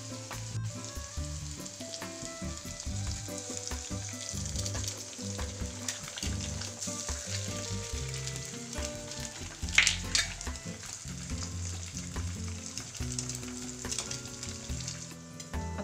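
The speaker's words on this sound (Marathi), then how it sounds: "आता यामध्ये हे 2 अंडी फोडून टाकायचे आहेत" Two eggs cracked into a hot pan, frying with a continuous close sizzle and crackle, brief clicks and a sharper burst near the middle, no voices.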